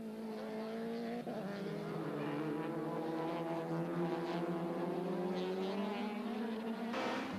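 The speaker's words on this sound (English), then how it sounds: "looming up behind them and eager to add his pennyworth to the proceedings was Duncan Voss in the 2nd Nissan Primera." Nissan Primera touring cars race past at a 1998 Bankfin Touring Cars round at Aldo Scribante, engines droning loud and steady with pitch rising and falling as the cars pass, no voices.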